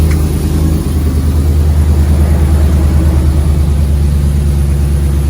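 A Ram pickup truck fitted with longtube headers idles steadily with a deep, loud, continuous rumble, close to the exhaust, with no revving.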